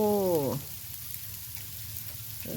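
Steady fine hiss of freezing rain pattering down in Grand Prairie, Texas, with a brief burst of voice at the start and another at the end.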